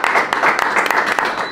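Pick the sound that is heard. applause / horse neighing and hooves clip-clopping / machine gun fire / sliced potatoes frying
applause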